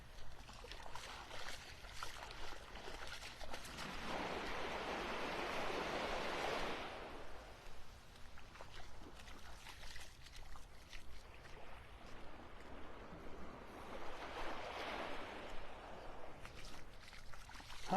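Ocean waves wash up the beach at Wiggins Pass in North Naples, Florida, in two broad surging swells, a long one and then a shorter one, with soft hiss between them, fairly faint and at a distance.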